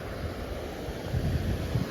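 Water flows steadily at Idappadi Periya Yeri falls as a dense, continuous rushing wash, mixed with some wind buffeting and no pauses.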